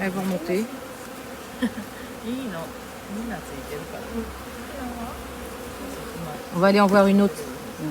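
Bees buzz steadily around a beekeeper's apiary, wavering drones close by with a louder swell near the end, while a person speaks in between.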